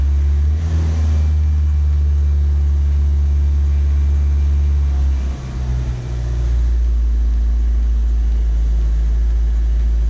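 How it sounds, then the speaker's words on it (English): A Nissan Super Turbo engine idling roughly, a loud, steady low rumble that dips and stumbles briefly partway through before settling back, with no talking. "Just going to let it tick over for a wee bit."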